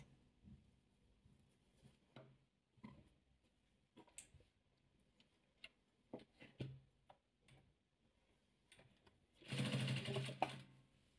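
Sewing a soft 3D ball for children: a series of faint, scattered clicks and taps, then a short, louder burst of machine stitching lasting about a second near the end.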